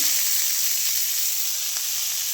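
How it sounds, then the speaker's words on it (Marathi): Onion and tomato fry in oil in a pan, giving a loud, steady sizzle that holds evenly throughout, close up with no talking. "आता आपला कांदा आणि टोमॅटो छान परतून झालेला आहे. त्यानंतर आपण मटार टाकणार आहोत"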